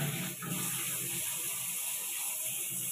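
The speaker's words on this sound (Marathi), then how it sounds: "अशा प्रकारे मी हे सुगड धुवून घेतलेलं आहे" Water runs and splashes steadily over a clay sugad pot as it is washed for a Makar Sankranti puja, a close, continuous wet rush with small clinks, no talking.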